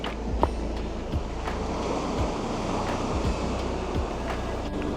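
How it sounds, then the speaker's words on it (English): Ocean waves breaking on a pebbly shore, a steady rolling wash with wind buffeting the microphone and a few sharp thumps, close and continuous throughout. "There's something very soporific about the sound of waves."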